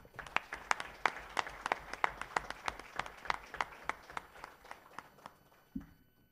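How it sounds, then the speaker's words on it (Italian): Audience applause for women at a provincial ANMIL conference, a run of sharp, fairly quiet claps in a steady rhythm that thins out and stops near the end. "voglio fare un caloroso applauso a tutte le donne e i migliori auguri per domani"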